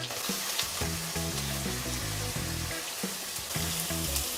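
Green chillies and finely chopped onion hit a pan of fried ginger and garlic for dhaba-style baingan bharta, giving a steady, close sizzle that runs without a break and with no talking.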